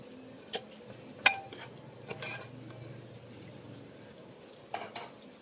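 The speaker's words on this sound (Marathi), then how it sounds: "पुन्हा एकदा चिकन मी छान असं परतून घेते" Chicken with plenty of fresh coriander being stir-fried in a pot, with scattered sharp utensil scrapes and clinks against the metal over a low background.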